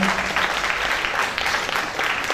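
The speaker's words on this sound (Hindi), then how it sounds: "और जो अभिनय किया है उसका जोरदार तालियों से एक बार पुनः अभिनंदन करें।" A theatre audience claps loudly and continuously for the performers of a Hindi stage play, dense sustained applause filling the hall.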